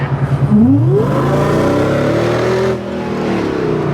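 A supercharged V8 engine in a Pajero Evolution build revs up hard under acceleration, its loud, rising roar climbing steadily in pitch for a few seconds before settling into a sustained high drone.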